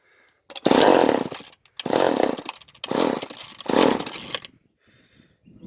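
An old chainsaw left unused for 25 years fires and revs in four loud, close bursts, each roaring for about a second before dropping away to near silence between pulls.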